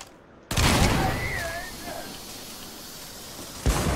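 A burst of gunfire from an overpowered gun in the Starfield video game, a sharp loud crack followed by a decaying noisy tail with whistling tones, then another sharp shot near the end.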